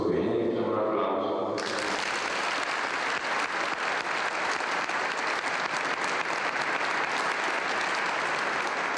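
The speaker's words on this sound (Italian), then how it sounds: "facciamo un applauso" Guests at a wedding ceremony burst into sustained applause, dense and fairly close, rising abruptly after a voice speaks and continuing steadily to the end.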